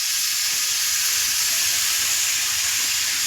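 Chopped bottle gourd and potato frying in a pan, a loud, dense, continuous sizzle close up with faint stirring movements underneath.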